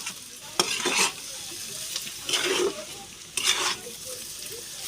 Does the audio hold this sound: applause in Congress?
no